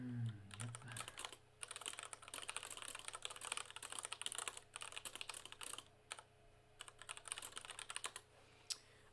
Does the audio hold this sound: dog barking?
no